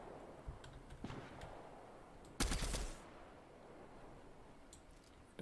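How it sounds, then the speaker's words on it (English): A single distant video game gunshot cracks out in one sharp burst amid faint ambient game noise and a few light ticks, fairly quiet overall. "Where'd that gunshot come from?"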